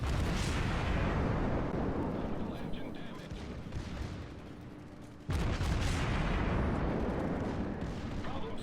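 A warship's secondary guns in the naval battle game World of Warships fire a dense, rumbling barrage of booms that barely lets up. The roar dips briefly before surging back at full strength.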